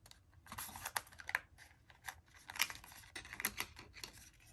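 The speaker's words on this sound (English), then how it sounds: "now we're gonna peel this off, and I'm gonna peel it off slowly, as this is the stitch dies" A stitched die-cut paper piece is peeled slowly off a die, making faint, close crinkly tearing bursts in irregular spurts with short pauses between them.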